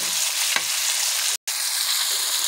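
Onions with ginger-garlic paste frying in a pan, a steady close sizzle running throughout with a brief stir and a short break in the sound partway through.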